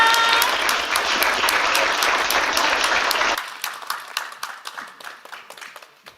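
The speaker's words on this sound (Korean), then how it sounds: "우리 모두의 박수로 오늘 이 자리 마무리하도록 하겠습니다." A festival audience closes the event with a loud burst of dense applause that stops after about three seconds, leaving a few scattered, fading claps.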